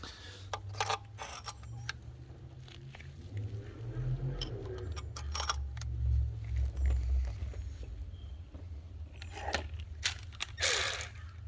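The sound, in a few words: ratchet tightening oil filter housing bolts on Jeep engine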